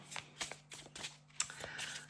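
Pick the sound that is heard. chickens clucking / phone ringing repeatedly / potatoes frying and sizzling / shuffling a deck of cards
shuffling a deck of cards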